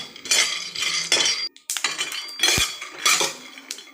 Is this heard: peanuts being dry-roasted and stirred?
yes